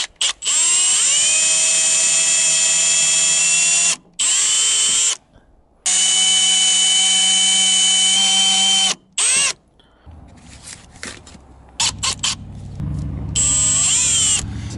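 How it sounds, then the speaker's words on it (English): A power drill drilling a small pilot hole into a screw runs in several bursts, whining at steady pitch with short pauses between, then gives way to scraping and handling noises near the end. "The first thing we need to do to this screw is we need to drill a small pilot hole."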